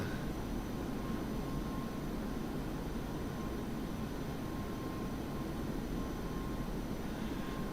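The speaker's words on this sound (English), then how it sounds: "Just use some afterburner to climb" An F-5E jet in the DCS flight simulator roars with afterburner engaged during a climb, a steady, broad, unbroken rush of engine noise with a faint thin whine on top, with no talk.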